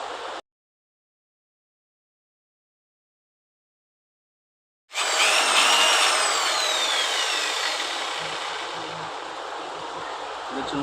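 A Cm5 marble cutter with a newly changed field coil is switched on after a short burst of sound and a silent gap. It then runs with a loud, steady high-pitched whine and a faint falling tone as it spins up.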